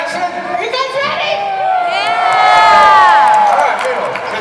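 A stunt show crowd cheers loudly, with whoops and children's shouts swelling into a big roar at an outdoor theme park arena, while an announcer's voice carries over it.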